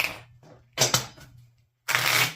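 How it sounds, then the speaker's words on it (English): A deck of playing cards being riffle-shuffled, giving three separate bursts of dense, crisp fluttering close by, the last one longer and louder. "I am going to shuffle the deck of cards"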